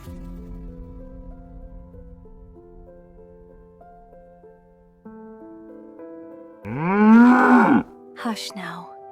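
A calf lets out one loud, drawn-out moo near the end, after a stretch of soft sustained background tones, followed by a brief shorter bleat.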